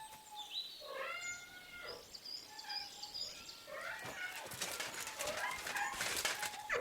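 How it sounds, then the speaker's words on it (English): Several cats meow in a medieval village in the video game Kingdom Come Deliverance 2, a string of faint overlapping mews, followed by scratchy hissing bursts near the end. "Is that meowing? How many of them are there, for Christ's sake? That sounds like a lot of cats."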